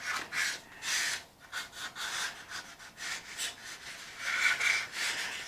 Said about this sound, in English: Now, as you can see, I'm not really doing a lot of sanding on this.